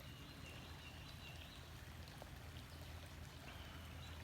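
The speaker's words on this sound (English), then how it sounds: "Pretty little brook." A small brook in a garden flows with a constant soft rush and trickle of water, steady and unbroken, heard up close at low volume without speech.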